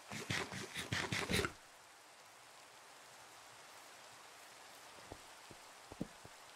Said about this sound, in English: Oh, just listening to the rain.